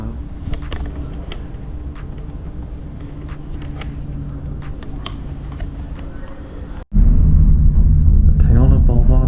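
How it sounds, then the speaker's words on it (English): Steady low rumble and mechanical ticking of a cable car ride in Bolzano, Northern Italy, continuous and close, then abruptly louder and fuller after a brief dropout near the end. "We are on the cable car"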